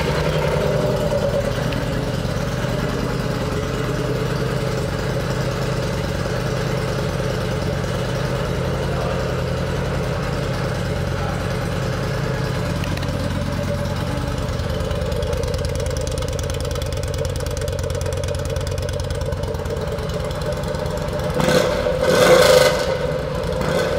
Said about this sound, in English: I think they might have taken the baffles out of this one too. This 2013 Yamaha V Star 950 Tour